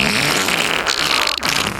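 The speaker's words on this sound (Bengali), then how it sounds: "পাত প্রতিযোগিতার 1 নাম্বার স্টুডেন্ট এখন পাত দিবে" A student lets out a fart during a farting contest, a rough, sustained airy blast nearly two seconds long, loud and close with no talk over it.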